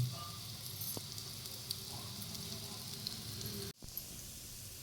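A puri cutlet frying on a hot griddle gives a soft, continuous crackling sizzle, with a brief break as it is turned before the sizzle resumes.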